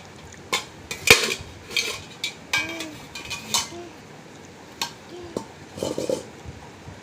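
Clinks and scrapes of utensils against a bowl while food is mashed by hand, in uneven bursts through a home kitchen, with some background voices now and then.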